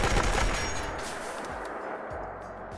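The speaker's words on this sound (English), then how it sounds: "you can fire this thing just about as fast as you can click." A steampunk revolver mod in the Fallout 4 video game fires in rapid succession, loud overlapping gunshots with reverberant tails, up close and without talk.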